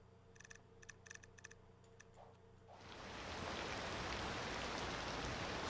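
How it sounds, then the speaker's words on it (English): Heavy rain in the city-building game Cities Skylines 2 swells in at mid-clip, a dense loud hiss of falling water after a stretch of quiet ticking game ambience. "It's the loudest rain affecting game I've ever heard."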